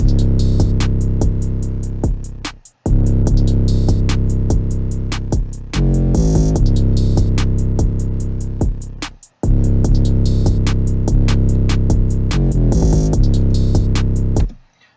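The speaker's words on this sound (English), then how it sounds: "you see how that 808 is just going to kind of take over" A hip-hop beat with a booming 808 bass under steady hi-hat ticks, loud and full, with brief dropouts before each bar restarts.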